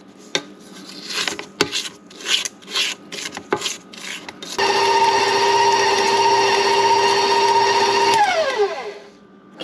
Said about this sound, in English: Don't forget to scrape the side and the bottom.